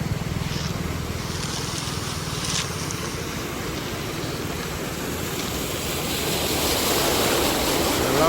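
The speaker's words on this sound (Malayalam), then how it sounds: "വെള്ളത്തിൻ്റെ ഒഴുക്കമൊക്കെ" A steady roar of fast-flowing floodwater fills the scene, a continuous rushing wash that swells a little louder toward the end, with no voices.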